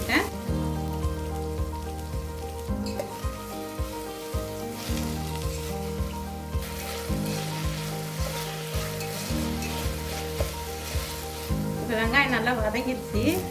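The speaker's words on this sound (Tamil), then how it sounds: "வெங்காயம், கருவேப்பிலை, கொத்தமல்லி இதெல்லாம் போட்டு நல்லா வதக்கிக்கலாம்." Onions, curry leaves and coriander sautéing in hot oil give a steady, close sizzle, dense and continuous throughout, with occasional stirring scrapes and a slightly louder burst of crackle near the end.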